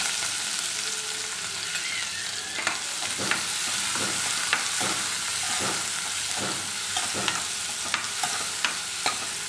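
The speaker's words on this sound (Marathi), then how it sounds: "तेल तापलेलं आहे, मोहरी टाकून घ्यायची आहे, जिरे, हिरवी मिरची, कांदा" Mustard seeds, cumin, green chili and onion fry in hot oil, a continuous sizzle with repeated sharp clicks and taps, likely from stirring, throughout.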